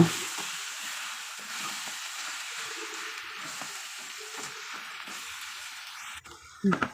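Mashed olives sizzle steadily in a hot pan as they are stirred, with a soft frying hiss throughout and a few brief clatters near the end.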